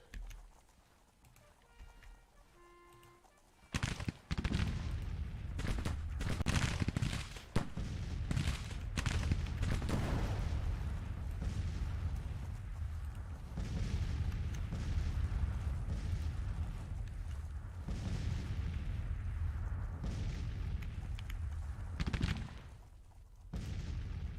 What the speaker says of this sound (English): we've run into some artillery fire